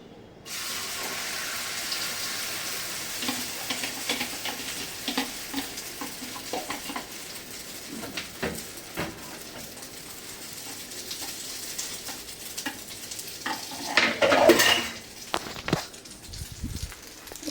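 A beaten egg and tomato omelette mixture sizzles steadily in a hot pan, a close, continuous frying hiss with occasional scraping and a louder burst of spatter near the end.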